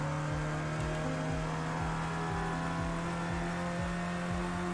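A race car engine in a racing video game, played with an open-wheel wheel add-on, drones steadily at high revs while repeated rhythmic downward sweeps mark gear changes, loud and close with no talk.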